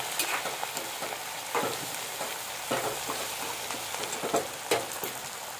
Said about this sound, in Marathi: त्याचे मस्त लाल होईपर्यंत तळून घ्यायचे व्यवस्थित.